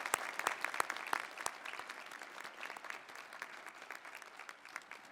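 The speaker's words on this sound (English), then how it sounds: "So please join me in giving them a round of applause." Sustained applause from a commencement audience for a university School of Education and Human Services, dense clapping with a few sharper claps standing out, fairly distant and steady for about five seconds.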